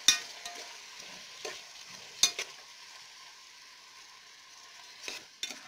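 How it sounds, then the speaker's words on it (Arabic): Canned tomatoes and onion fry quietly in a pan, a soft, low sizzle punctuated by a few sharp clinks and scrapes of a utensil stirring against the metal. "نزيدو له طماطم معلبة ونقليه، نقليه مليح قبل اللحم مع"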